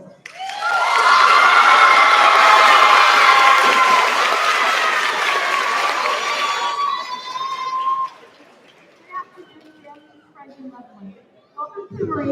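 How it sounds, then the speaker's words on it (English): Loud applause and shrill cheering from a crowd at a middle school promotion ceremony, a dense roar with children shouting and whooping that swells then cuts off around eight seconds, followed by quieter scattered claps and murmuring voices. "give her a round of applause"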